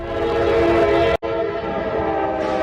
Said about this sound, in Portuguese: um trem colidiu com um caminhão.